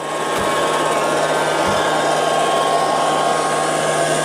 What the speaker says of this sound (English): underneath the furniture, gives a good sweep in areas that we would have difficulty getting a larger vacuum cleaner, and then out again